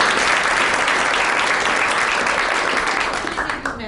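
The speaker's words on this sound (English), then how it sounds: "Round of applause for Sinead." A school committee awards and recognitions meeting breaks into loud, sustained applause from the crowd, steady clapping filling the room before easing slightly toward the end.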